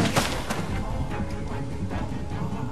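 Gunshots in The Walking Dead game, Episode 2 Starved for Help, repeated dull booms in a steady stream against continuous dense noise, with a voice talking intermittently underneath.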